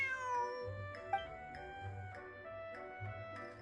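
A stray cat in Genshin Impact meows several times in a short, close sequence of tonal calls over steady game background music, with no talking.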